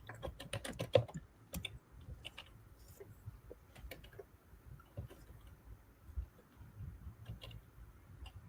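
Soft, close typing on a computer keyboard, irregular clicks and clustered keystrokes at low volume, alone without talk.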